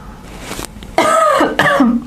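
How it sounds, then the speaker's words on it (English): A person nearby coughs and clears their throat in a few loud, harsh bursts, the first softer and the next two strong, with no talking. "Oh, now you're coughing."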